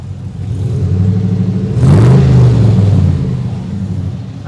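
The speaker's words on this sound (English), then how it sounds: "rev the engine." A close, loud 1951 Chevy Styleline Deluxe hot rod engine idles with a low rumble, then revs up briefly in the middle before settling back down.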